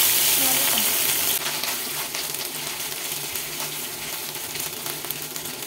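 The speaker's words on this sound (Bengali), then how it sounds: "এবার এই তেলের মধ্যে রসুন বাটা এবং আদা বাটাগুলো হালকা ভেজে নিচ্ছি" Ginger and garlic paste fries in hot oil for a chicken layered singara filling, giving a steady, close crackling sizzle that starts loudest, eases a little after a second and continues with faint stirring scrapes.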